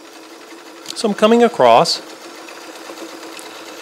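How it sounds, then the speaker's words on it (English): A restored all-metal Kenmore 158.1941 free-arm sewing machine stitches over thick seams, a steady motor hum running under a voice. "the machine goes right over those two seams, and you know it doesn't complain at all"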